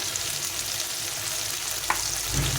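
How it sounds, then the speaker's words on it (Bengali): Tomatoes frying in a pan for a winter matar dal with vegetables produce a continuous dense sizzle close up, steady and unbroken, with a slight low rumble swelling at the end. "টমেটোটা একটু ভাজা ভাজা হয়ে গেছে"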